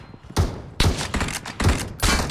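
Rapid bursts of automatic gunfire from a Battlegrounds Mobile India team deathmatch, four loud volleys separated by brief gaps, close and punchy with heavy low thumps.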